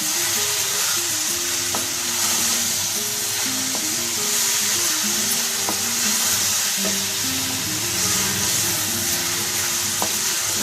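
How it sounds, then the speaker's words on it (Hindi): Mixed vegetables with fenugreek leaves stir-fried in hot oil, a steady close sizzle throughout with occasional soft scrapes and knocks of a spoon stirring the pan. "मैं इसमें मेथी डाल देती हूँ। इसको भी अच्छे तरीके से मिक्स कर लें।"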